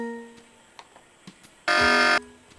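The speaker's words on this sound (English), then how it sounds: "Not sure what to do about this alarm" An alarm in the video game Tex Murphy: The Pandora Directive gives one loud, harsh buzz of about half a second, preceded by faint ticks and a low steady hum.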